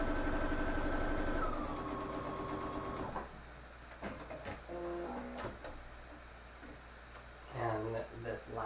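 An electronic sewing machine stitches the hem of a 3D fabric face mask, a fast rhythmic whirring run that stops, followed by short bursts of stitching and clicks while a person talks.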